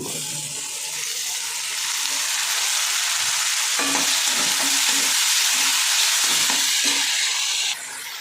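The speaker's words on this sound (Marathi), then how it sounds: "आता कांदा तळला आता टमाटर घालून घ्यायचे" Onion and tomato fry in a pan with a steady, close sizzle and hiss. Stirring scrapes and clacks sound through it, and the sizzle stays loud and unbroken for several seconds.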